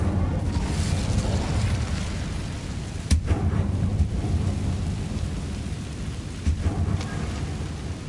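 The Incendio fire spell is cast in the Hogwarts Legacy video game: a deep, continuous rumbling roar with two sharp blasts flaring up partway through, loud and close with no talking.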